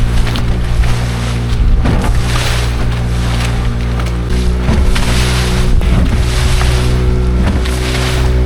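A small fishing boat rides a windy, choppy sea, its engine rumbling steadily beneath loud wind buffeting and repeated splashes of waves against the hull.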